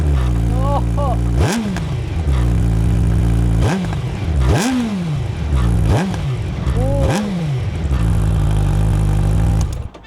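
Suzuki Hayabusa Gen 3 motorcycle with an Akrapovic exhaust idles with a deep burble, then revs sharply four times, each rise and fall loud and close, before settling back to idle.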